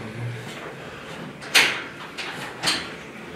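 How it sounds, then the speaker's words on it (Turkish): A door is forced open during a police raid, with a few loud impacts and bangs, mid-distance, amid background noise and faint shouting. "Aç kapıyı."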